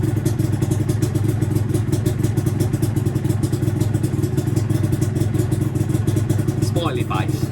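Yamaha DT125LC two-stroke motorcycle engine idling on half choke, a loud close steady rapid putter, with a voice speaking briefly near the end.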